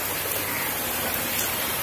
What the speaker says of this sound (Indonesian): Ini benar-benar hujan lebat.